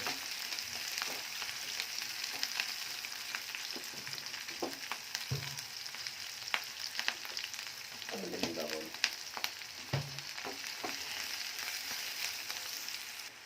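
Onions and green chilies frying in oil in a pan give a soft, steady sizzle, broken by a few scrapes and taps of stirring.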